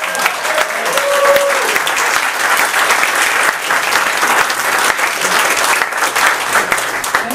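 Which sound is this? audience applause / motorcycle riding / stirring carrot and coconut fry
audience applause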